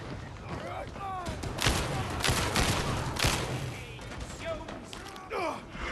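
Gunfire in Warhammer 40k: Darktide, a co-op shooter game, with bursts of shots and thuds and sharp cracks coming in clusters, mixed with game noise and a few sighs and gasps.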